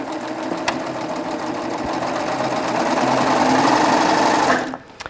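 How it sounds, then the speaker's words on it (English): A Baby Lock Triumph serger runs steadily while sewing cording, giving a fast continuous mechanical whir that holds for about four and a half seconds and then stops, followed by a couple of faint clicks. "And then just keep serging."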